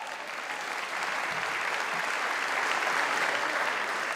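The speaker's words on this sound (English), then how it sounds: "The people clapping are the ones who work there." Steady, dense applause from staff of an Illinois state office fills the room, a continuous sustained clapping that grows slightly louder toward the end.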